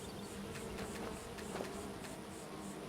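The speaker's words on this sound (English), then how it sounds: "My god, those honeybees are huge." Giant honeybees in Skyrim: Dawnguard give off a continuous insect buzz with a few wingbeat swells, steady and moderately faint, with no talk over it.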